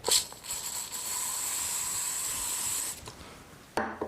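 A can of strong-hold hair spray releases a sustained hiss close by for nearly three seconds, setting loose strands in place on a styled hairdo, and a brief clatter of handling follows.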